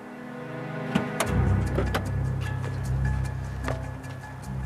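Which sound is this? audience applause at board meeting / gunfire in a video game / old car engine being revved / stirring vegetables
old car engine being revved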